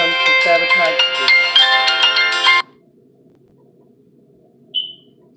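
A phone ringtone plays loudly in a melodic burst for a couple of seconds, then cuts off, leaving quiet room tone and a short faint chirp near the end.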